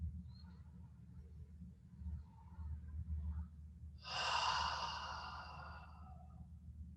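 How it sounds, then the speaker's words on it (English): A slow breath during a guided relaxation exercise: a soft, quiet breathing stretch, then a long breathy exhale near the end, with no talking. "So I'm just going to be over here breathing."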